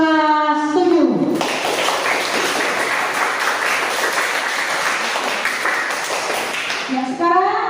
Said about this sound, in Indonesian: Tepuk tangan buat kelas 7.